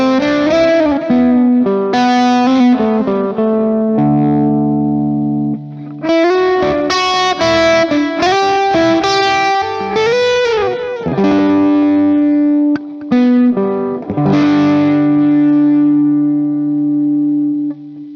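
A distorted electric guitar played through a Universal Audio UAFX Starlight delay pedal, strumming chords and picking melodic lines with echoing repeats trailing each phrase, loud and continuous with no talking.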